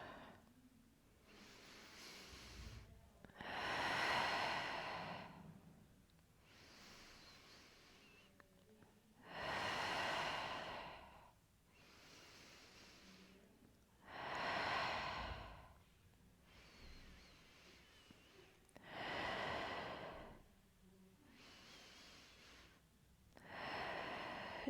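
Slow, deep breaths during a Pilates workout, with about five long, audible exhalations spaced several seconds apart and quieter inhalations between them, close to the microphone.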